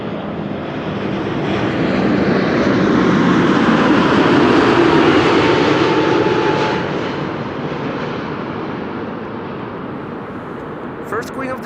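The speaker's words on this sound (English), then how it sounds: "American Airlines flight 203 arriving from Philadelphia, Pennsylvania. 7878 Dreamliner" An American Airlines Boeing 787-8 Dreamliner arriving at Amsterdam Schiphol, a loud broad jet roar that swells over the first few seconds, peaks mid-pass, then slowly fades to a steady rumble, heard without any talk.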